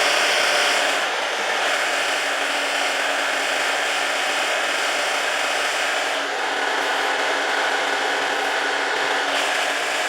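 A hair dryer blows steadily and loudly on a wig's lace hairline during a beginner install, a continuous broadband whoosh with a slight dip in airflow partway through and no talking.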